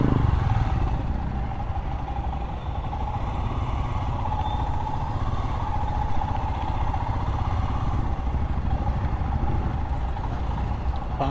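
A Royal Enfield Scram 411 motorcycle being ridden, with its engine droning steadily and closely at an even level along with rushing wind and road noise.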